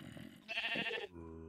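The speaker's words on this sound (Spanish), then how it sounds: "Hay ovejas llamadas Jeb." Sheep bleating in the Minecraft video game, one drawn-out, wavering bleat rising over quiet game ambience, followed by a low steady tone as it ends.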